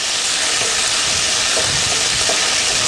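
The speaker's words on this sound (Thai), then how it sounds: "เราต้องผัดแอนโชวีให้เหลืองมันก็จะได้ไม่คาว" Anchovies stir-fried in a pan for a pork kidney and white wine dish give a steady, loud sizzling hiss that runs unbroken throughout, with no talking.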